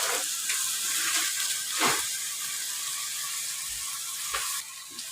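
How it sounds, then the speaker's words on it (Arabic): Onion browning in a hot pan while béchamel pasta is being made, giving a steady close sizzle and crackle with a few soft clicks and stirring knocks. "البصله بتتحمر اهي"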